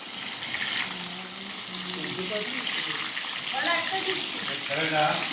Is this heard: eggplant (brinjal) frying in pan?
yes